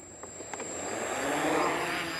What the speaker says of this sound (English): the drone taken off into the air